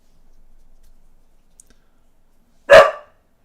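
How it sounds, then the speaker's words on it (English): A dog gives a single loud, close bark after near silence, with a faint tick heard just before it. "There's the dog."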